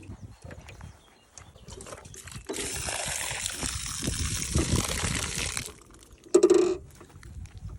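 Water gushes and sloshes steadily in a dehumidifier tank for a few seconds, then stops, followed by a short plastic clunk and a brief hum.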